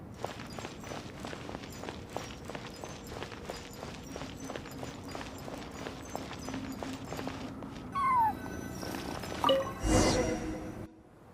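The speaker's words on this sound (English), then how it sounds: "I followed the cat's cries to find my way out" A cat meows in the video game Genshin Impact: a rhythmic run of soft footstep-like taps, then a few cat cries near the end, followed by a louder brief burst.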